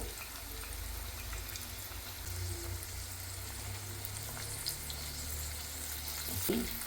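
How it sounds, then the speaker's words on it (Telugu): Almonds and pistachios fry in ghee with a continuous soft sizzle and crackle, stirred now and then with light scraping clinks, steady and close throughout. "చక్కగా ఇలా నేతిలో వేపుకుంటే చక్కగా డ్రై అవుతాయి."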